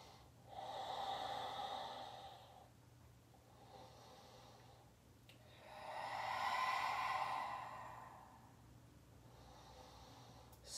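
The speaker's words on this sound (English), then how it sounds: "Big, spacious Ujjayi breath." Slow, audible Ujjayi breathing during a yoga practice, long hushed oceanic inhales and exhales rising and falling in a steady rhythm, close and soft with no talking.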